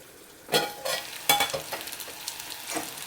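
Potatoes cooking in a pan for an aloo tomato curry, with a steady sizzle and two or three louder scraping stirs of a spatula, heard up close with no talking.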